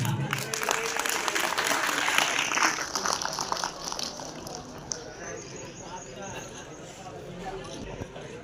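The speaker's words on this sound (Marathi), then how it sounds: "सर्वांनी टाळ्या वाजवून" Applause from an audience at a Republic Day school function in a Maharashtra village, a dense sustained clatter of many hands that fades gradually toward the end, with voices mixed into the crowd noise.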